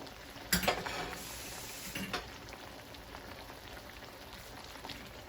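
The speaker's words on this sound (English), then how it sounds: "And I'm also gonna tip a little bit more water in it." Water tipped into a simmering pot of Jamaican-style steamed fish with okra, a brief splash and clatter near the start, then a steady soft bubbling hiss that continues quietly to the end.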